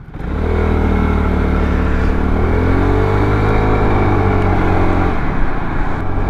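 A Piaggio MP3 three-wheel scooter rides in Malaysia, its engine a loud, steady drone close by that swells as it pulls away and holds constant, then dips briefly near the end.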